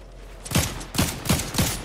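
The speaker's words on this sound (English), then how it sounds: "We're getting shot at, just an FYI." Bursts of rapid gunfire aimed at players in a video game firefight, several loud volleys in quick succession with short gaps between them.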